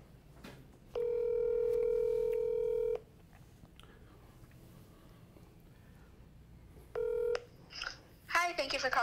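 Telephone tones sound while a call is placed: a long steady electronic tone lasting about two seconds, then a shorter one several seconds later, over quiet background, with a voice briefly at the end.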